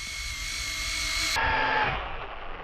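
A Losi LMT RC monster truck fitted with a snow blower, its high electric motor whine straining and dropping in pitch as it bogs down in icy snow, steady and close with no talk.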